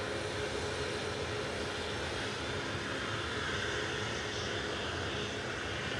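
A Boeing 737 Max 8 at Manchester Airport takes off for Palma de Mallorca, its jet engines giving a steady, loud, sustained roar at a distance.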